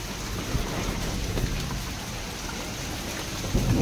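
Heavy rain pours steadily in a dense continuous hiss, with low thunder rumbles underneath and a sharper thump near the end.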